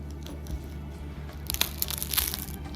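The crust of a homemade baguette squeezed by hand, crackling and crunching with a cluster of sharp, close crisp snaps in the second half over a steady low background hum.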